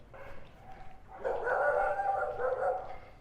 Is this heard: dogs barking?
yes